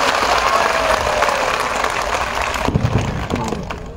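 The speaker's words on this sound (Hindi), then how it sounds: "जोरदार ताली बजा के स्वागत करिए" A crowd at a political speech event claps loudly to welcome a guest, producing dense, sustained applause close by that continues throughout with a few sharper claps near the end.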